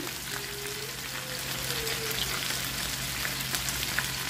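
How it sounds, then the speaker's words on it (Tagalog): Chicken frying and caramelizing in a pan for adobo with pineapple, a steady close hiss and crackle of oil with faint pops throughout, no talking. "Mabilis na ito nagkaramelize. At nagiging brown ang ating chicken."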